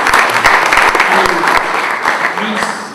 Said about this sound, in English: So I got to give a round of applause to my family